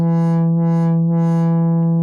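A steady buzzy synthesizer tone with a filter slowly opening and closing, brightening and dulling smoothly in a few gentle waves, no whistling peak.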